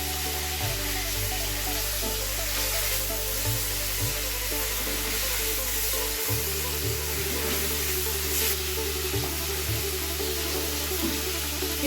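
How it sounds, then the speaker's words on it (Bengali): Hilsa fish frying in hot oil as the pieces are turned over, a steady broadband sizzle with a low persistent hum underneath and a few soft knocks, no voices. "মাছগুলো আমি হালকা একটু এপিট ওপিট তেলের উপরে আমি নেড়ে নেব।"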